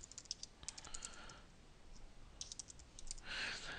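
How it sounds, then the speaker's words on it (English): Quiet typing on a Microsoft Word 2011 computer keyboard in short irregular bursts of soft clicks, pausing between bursts, heard close up with no one talking. "here we can just begin to type some text"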